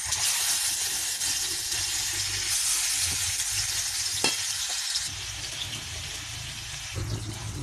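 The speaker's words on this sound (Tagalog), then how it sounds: "ipipirito natin isa-isa" Tomatoes frying one at a time in a hot pan for a cheesy chicken sauce, giving a steady close sizzle and hiss with occasional sharper pops and spatters, no voices.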